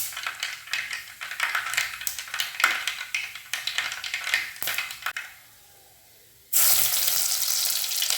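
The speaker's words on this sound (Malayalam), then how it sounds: "എണ്ണ നന്നായിട്ട് ചൂടായി ഓക്കെ ഇപ്പം ചൂടായിട്ടുണ്ട്" Hot oil in a pan crackles and spits with sharp pops, falls nearly silent for a moment, then surges into a loud, steady, close-up sizzle.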